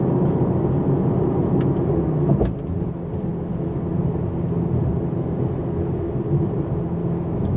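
A 2021 Mercedes GT53 AMG on the move gives a steady, dense engine and road rumble that holds at an even loudness throughout, with one brief thump partway through.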